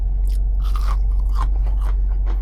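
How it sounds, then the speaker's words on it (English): Crunchy fast food chicken nuggets chewed up close, a fast run of loud, crisp bites and crunches over steady low background rumble from a driving car. "You hear that? Like, they're very crunchy, but the inside is not that dry."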